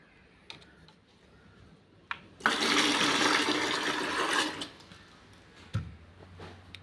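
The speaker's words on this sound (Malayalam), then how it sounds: "ഇനി ഇതിലേക്ക് ഒരു ലിറ്റർ പച്ചവെള്ളം ഒഴിക്കണം" A litre of plain water poured into a fertiliser mix of curd and fermented rice water, a loud, close rushing gush lasting about two seconds and then tapering off, with a few handling knocks around it.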